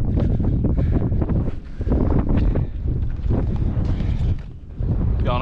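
Strong wind buffets the microphone on a frosty Lake District fell summit, a loud, continuous roaring rumble with gusts that briefly ease before surging again.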